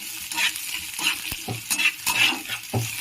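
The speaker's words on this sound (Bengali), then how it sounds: "এটা সবগুলো ভালো করে ভেজে নেব" Fennel seeds frying in hot oil with steady crackling sizzle, punctuated by repeated scraping strokes of a spatula stirring the pan, fairly close and loud, no voices.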